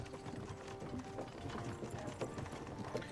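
Horse hooves clip-clop faintly in the distance in the medieval video game Kingdom Come: Deliverance 2, a quiet irregular patter of steps under low ambient game sound.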